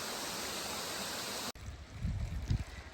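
Flowing spring water at a campground, a steady broadband rushing pour that cuts off abruptly, followed by softer low splashing and handling sounds nearby.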